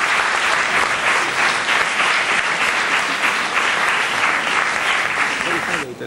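Steady, dense applause from an audience at a science-experiment demonstration, loud and continuous for several seconds before a voice cuts in at the very end.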